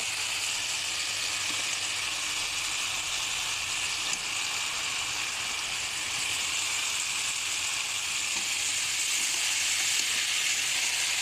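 Chicken meat fries in a cumin-spiced paste for a country chicken and jackfruit curry, a steady, even, loud sizzling hiss that holds throughout with no talk.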